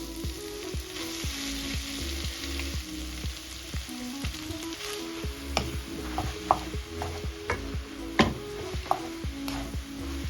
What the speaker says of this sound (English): Transfer the noodles and the broccoli in there.